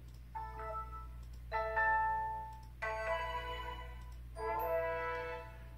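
A default notification chime plays a two-note pitch pattern, repeated four times in short bright bursts, ringing over a low steady hum.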